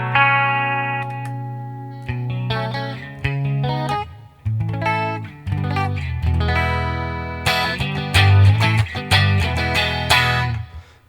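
An electric guitar runs through a Behringer V-Amp 3 amp modeler, playing loud, distorted and chorus-laden chords and single notes in short phrases with brief gaps, and no talking.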